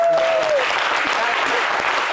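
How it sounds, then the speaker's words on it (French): Applause for a coach at a televised celebration of a team victory: a brief, dense burst of clapping that stays level, with a shout at the start and crowd voices underneath. "Applaudissez, c'est lui qui écrit nos noms"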